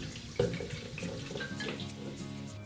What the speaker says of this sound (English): for the Smirnoff Ice, we're going to pour in about 200 ml, which is just short of 7 ounces of Smirnoff Ice